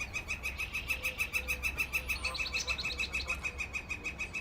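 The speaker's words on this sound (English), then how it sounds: "Eco is a brilliantly colored, medium-sized parrot belonging to the Spix macaw species" A brightly colored, medium-sized Spix macaw parrot gives a steady run of repeated chirping calls in a quick, even rhythm. The calls come through at moderate volume over a low background rumble.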